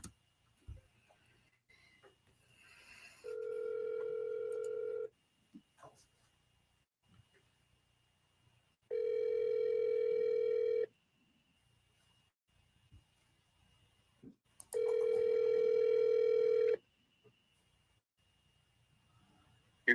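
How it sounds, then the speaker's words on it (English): An outgoing phone call ringing through: three long ringback tones of about two seconds each, evenly spaced by quiet gaps, clear and steady over a faint background. "Let me call my guy Oswald, man."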